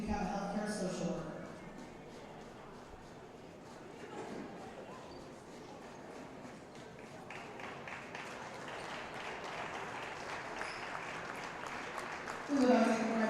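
Applause for senior players at a varsity high school volleyball match between A-Town and Havana, a soft, distant patter of many hands clapping in a gym, growing fuller midway, under a voice talking.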